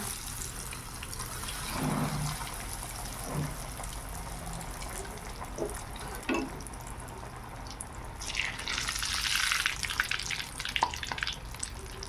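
Vegetable chops frying in hot oil, a steady low sizzle running throughout with a few soft knocks and a brighter, louder burst of bubbling near the end, heard close and with no voices.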